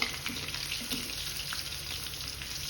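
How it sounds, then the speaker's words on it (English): Bay leaf, cumin seeds, fennel seeds and a red chilli frying in hot oil, with a soft, steady sizzle and faint stirring close by and no voices. "Fry them, then add chopped garlic."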